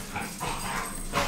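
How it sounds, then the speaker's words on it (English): Dogs playing and roughhousing together, a brief burst of muffled yips and playful whimpers heard faintly beneath a steady background hum. "The dogs are playing."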